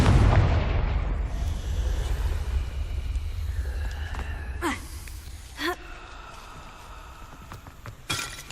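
A Confringo blasting spell detonates in the Hogwarts Legacy video game: a loud opening boom with rumbling decay, followed by sharper bursts and crackles later, heard alone without talk.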